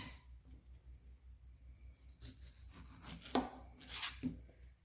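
A knife slicing through a pineapple to cut out its hard core, a few soft, close cutting crunches over a faint background hum, quiet and without talk.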